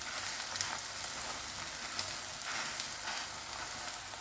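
A besan (gram flour) chilla sizzles in a pan, a steady crackling fry with soft popping that holds at an even level throughout, close and without talk.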